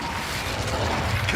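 A short burst of Incendio fire-spell flame from the Hogwarts Legacy video game, a steady, loud, breathy rush of noise with a low rumble beneath it, heard alone.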